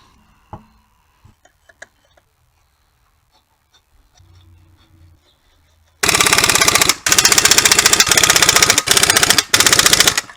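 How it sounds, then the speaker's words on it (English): An impact wrench removes a lug nut from a 2006 Pontiac G6 front wheel during a brake job, rattling loudly in several bursts after a few seconds of quiet clicks and handling noises. "Take that nut off."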